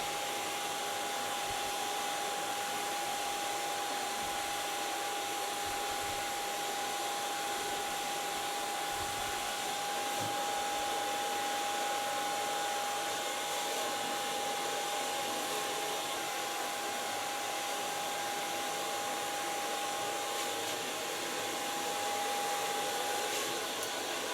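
A hair dryer blows steadily on hair during a styling session, a constant loud whirring roar with a thin whine running the whole time, no voices.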